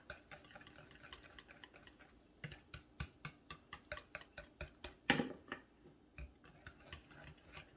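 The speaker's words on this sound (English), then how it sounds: "You want to whisk it gently together." Butter and egg being whisked together in a bowl for pancake batter: a quick, steady run of light clicking taps against the bowl, fairly quiet and close, with no talking.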